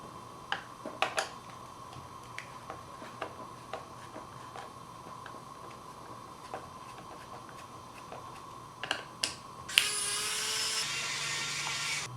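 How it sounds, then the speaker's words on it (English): Small screws being removed from a motherboard: sparse, faint ticks and clicks over quiet background, then a louder, sustained close whir of a small driver near the end. "As you unscrew these, it might be helpful to have a small pair of needle nose pliers to grab the screw."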